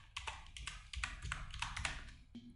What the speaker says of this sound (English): So I'm typing DaVinci